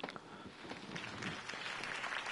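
Crowd applause for Harvey Dent's campaign speech in a Batman video game, a dense spread of clapping that swells and stays steady, moderately loud, with no talk over it.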